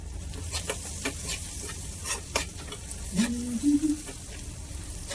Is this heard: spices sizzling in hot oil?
yes